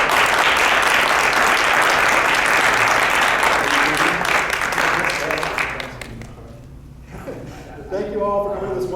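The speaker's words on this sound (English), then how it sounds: "So please clap for our guest speakers" An audience applauds guest speakers at a theatre-in-the-round event, loud sustained clapping that thins out and fades after several seconds, giving way to a voice speaking.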